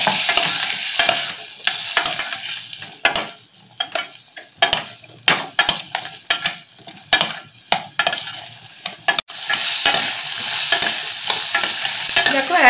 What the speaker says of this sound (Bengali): এই যে ক্যাপসিকামগুলো যেগুলো ছিল সেটা একটুখানি ভেজে নিচ্ছি।